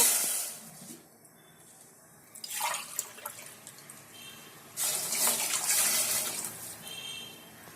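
Water poured from a glass into a cooking pot of rice and golden fried onions in a home kitchen: two close splashing pours, the second longer, separated by a quieter gap.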